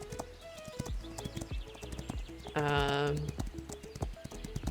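Horse hooves clip-clop in a steady rhythm in a horse riding video game, with a horse whinnying briefly in the middle.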